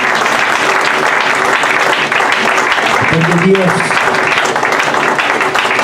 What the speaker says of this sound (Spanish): Si le va a dar ofrenda de palmas al Señor, dáselo.